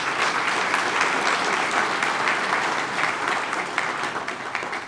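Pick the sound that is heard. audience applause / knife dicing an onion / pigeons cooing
audience applause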